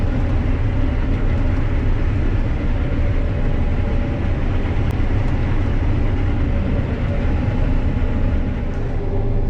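A combine harvester's rotor runs during harvest, heard from inside the cab as a loud, steady, dense mechanical rumble and drone that holds unchanged for the whole stretch, with no talking.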